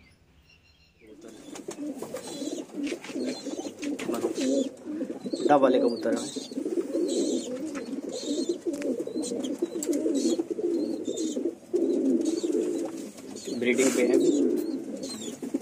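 Teddy Pakistani Sialkoti pigeons coo in a steady, overlapping chorus close by, with chirps and someone speaking at times over the birds.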